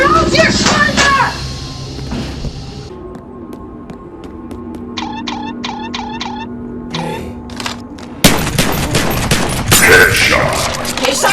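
Video game gunfire: a quick run of sharp single shots, then a denser, louder volley over a droning hum, mixed with game voices speaking.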